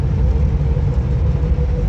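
A car driving in fourth gear with the AC on and a suspected gearbox or clutch fault gives a loud, steady low engine rumble and drone from inside the cabin, with no clear rise in pitch.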